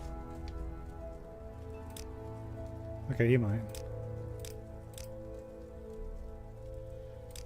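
Rain falls in the Morrowind video game as a steady, soft patter under a low background hum throughout. A person speaks briefly in the middle.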